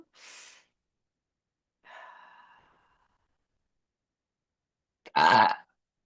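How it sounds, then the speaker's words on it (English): A person burps three times at spaced intervals, the first two soft and breathy, the last a louder, deeper, resonant belch, each isolated against silence. "That's why I keep burping"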